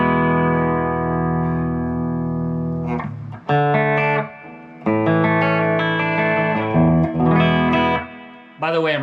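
Ernie Ball Music Man Luke 3 guitar with stock pickups played through a Splawn QuickRod 100W amp on its clean tone with plate reverb, sustained ringing chords with short pauses between phrases, loud and close.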